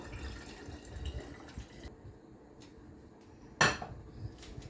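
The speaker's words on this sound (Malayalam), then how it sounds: "ഇത് നമുക്ക് ക്യാരറ്റിൻ്റെ ഈ കുപ്പിയിലേക്ക് ഒഴിക്കാം" Homemade beetroot squash poured into washed, dried glass bottles: a steady liquid wash with soft glass clinks, then one sharp, bright clink of glass near the end, moderately close with no talking.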